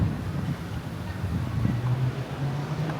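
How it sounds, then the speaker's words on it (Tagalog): Steady wind buffets the microphone on a bridge in Würzburg, making a continuous low rumble with faint distant traffic beneath it. "Hangin! Hangin pala."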